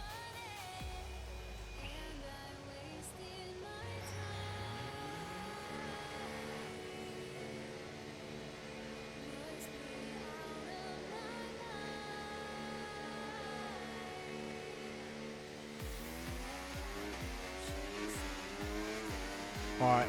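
F1 24 race cars idle and rev on the grid at Spain before a race start, several engines droning together with rising and falling pitch, steady and moderately loud, swelling into a sharper surge of revs near the end.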